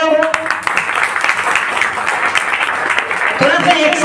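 Applause from an audience at an RCM business celebration event greets Mr. Rahman as he comes on stage. Dense clapping continues steadily throughout, with voices over a PA mixed in above it.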